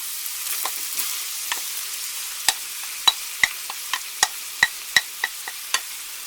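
Celery and onions frying in a pan with browned meat, a soft steady sizzle punctuated by a dozen sharp spoon clicks and scrapes against the pan, close and alone without talk.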